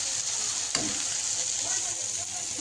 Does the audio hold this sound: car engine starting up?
no